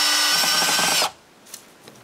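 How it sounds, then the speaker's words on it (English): A power drill bores pilot holes into wooden chaise longue leg braces, a loud close whine that runs for about a second and stops sharply, followed by faint handling knocks. "I make pilot holes before screwing them in place."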